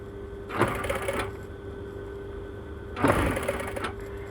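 A sewing machine stitches elastic into a swimsuit in two separate bursts of steady, rapid needle clatter, each lasting under a second, with a low constant hum between them and no talking.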